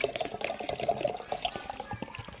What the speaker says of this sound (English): Now I'm just gonna pour here so I don't drink out of a plastic thing.